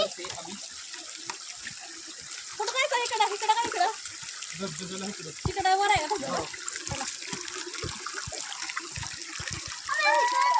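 Rushing, splashing water at a waterfall fills the scene continuously while people talk over it in loud bursts.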